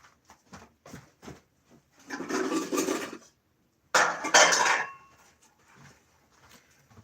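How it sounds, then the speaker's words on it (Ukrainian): Metal saucepan rattling and clanking close by, two busy bursts of scraping and knocking between scattered taps. "А, каструльку треба взяти."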